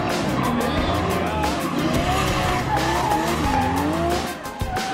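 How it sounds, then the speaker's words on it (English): High-power rear-wheel-drive cars drift sideways at a motorsport event in South Africa, their tyres squealing and skidding almost continuously over roaring, revving engines, loud and close throughout. "Sideways, rear-wheel drive, high-power cars"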